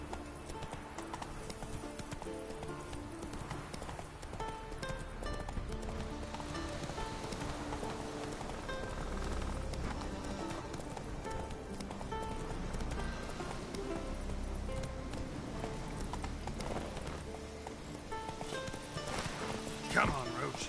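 Roach, the horse in The Witcher 3, clip-clops along steadily in the rain on a New Game Plus deathmarch run, hooves pacing under music with speech over the top.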